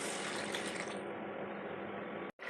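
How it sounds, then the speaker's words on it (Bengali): Hot water pours steadily into a curry masala for a Bengali fish kalia, a dense, continuous rushing splash that stops abruptly near the end. "তো আমি এরপরে এই জল গরমটা দিয়ে দেবো।"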